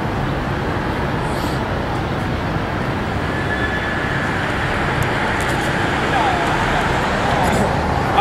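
Street traffic roars steadily as a dense, constant wash of road noise, fairly close and continuous throughout, with a faint voice talking beneath it.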